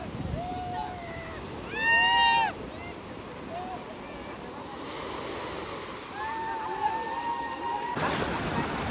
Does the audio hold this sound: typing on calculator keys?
no